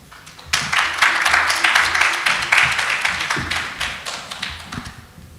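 Audience applause at a regional intervarsity entrepreneurship competition in East London, Eastern Cape: a burst of dense clapping starts after half a second and holds steadily for about five seconds before thinning near the end.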